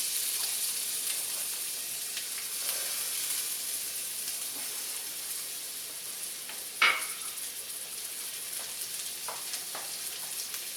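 Onions sizzle in canola oil in a hot stainless steel pan for a smash burger, a steady crackling hiss throughout, broken by one sharp clack of a utensil and a few softer taps.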